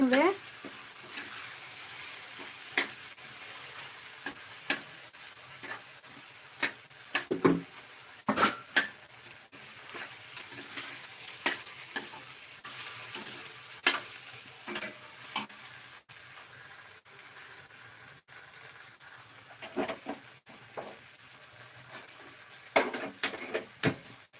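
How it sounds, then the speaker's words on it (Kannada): Semolina (rava) frying in oil as it is stirred for avarekalu upma, a soft steady sizzle broken by repeated scraping and clinking strokes of a spoon against the pan, with no voices. "ಅದರಲ್ಲಿ ಈ ಥರ ಎಣ್ಣೆಯಲ್ಲೇ ಫ್ರೈ ಮಾಡಬೇಕು ಸ್ವಲ್ಪ ರವೆನೂ"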